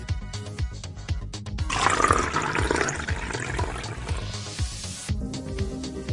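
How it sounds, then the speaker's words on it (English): Water pours into an empty drinking glass in a simple kids' science demonstration, a rushing, splashy gush lasting a few seconds beneath rhythmic background music. "Now pour it into the glass."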